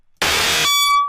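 A harsh, buzzy distorted synth burst that cuts off into a clear, high ringing resonant tone fading away, about one second long.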